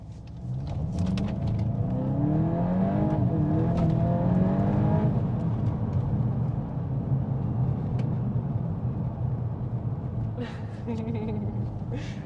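A Volkswagen Golf GTI engine in Nürburgring mode revs hard and climbs in pitch as it accelerates, loud and close, with pops and bangs, then settles into a steady drone.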